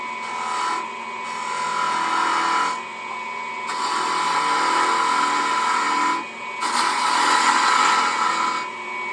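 A gouge cutting a face grain spindle on a wood lathe makes a loud, steady whirring rasp, swelling and easing as the cut deepens and lifts off in several passes.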